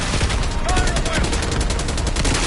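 Gunfire in a Call of Duty Black Ops 6 campaign battle at a palace gate comes as a dense, rapid stream of loud automatic shots, close and sustained across the whole moment.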